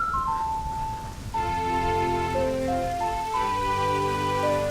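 Rain falls in The Legend of Zelda: Majora's Mask, a soft steady patter beneath a prominent melody of sustained tones that dominates the scene throughout.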